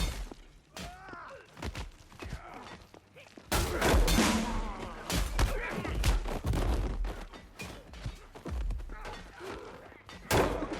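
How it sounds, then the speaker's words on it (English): Combat effects from the VR brawler Paint the Town Red on PC, where an added cue sounds whenever an enemy is killed, with repeated loud thuds, shatters and bursts over steady game music. "I also changed it to make a sound every time I kill an enemy"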